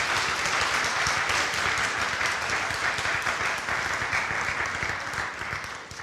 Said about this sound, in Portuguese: Eu vou pedir uma salva de palmas para estes 2 grandes obreiros.